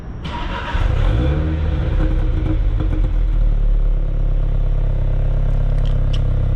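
A Mini's engine starts and revs, its exhaust rising to a loud, throaty drone that holds steady nearby.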